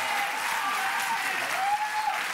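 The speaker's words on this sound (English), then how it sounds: "Give a round of applause." A television studio audience at a celebrity singing competition breaks into continuous, loud, dense applause that fills the whole stretch without a break.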